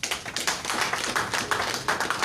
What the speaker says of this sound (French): L'applaudissement devait être plus... voilà.